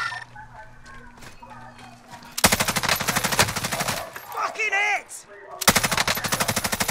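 Rapid bursts of automatic gunfire in a shooter video game, two long loud volleys of closely spaced shots, with a short warbling electronic tone between them and faint game sounds before the first burst.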